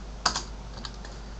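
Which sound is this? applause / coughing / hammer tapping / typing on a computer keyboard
typing on a computer keyboard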